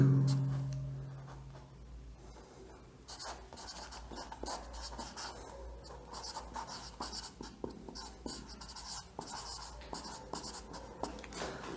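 Pen or pencil scratching steadily on paper while a chemistry solubility calculation is written out, a continuous run of short scraping strokes close up and fairly faint, with no talking.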